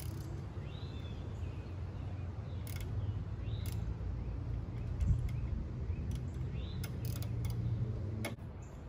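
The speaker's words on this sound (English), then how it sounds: "Screw that in by hand so you don't cross thread it until it stops," Spark plug threaded by hand into a Briggs & Stratton engine on a 1979 Burns (Gilson) garden tiller, heard as faint, sparse metallic ticks and creaks over a low steady background hum.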